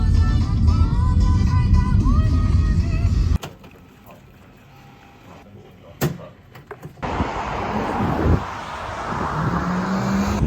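Car ride through Kyiv streets: steady engine and road rumble inside the car, then a quieter stretch with a thump and door-like clunks, then road noise rising again as the car moves off.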